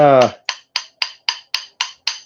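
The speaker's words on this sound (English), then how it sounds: "Let's take a hammer to this and see how much of that slag too." A hammer knocks slag off a brick in eight sharp, evenly spaced raps, close and clear, after a brief voice at the start.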